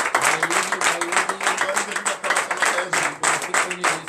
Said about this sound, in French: donner de vives acclamations à notre Seigneur Jésus